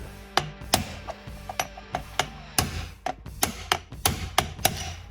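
A rapid series of sharp metallic taps from a brass hammer striking a punch on a Ford Model A transmission tower, about a dozen strikes at an uneven rhythm, close by with no talking.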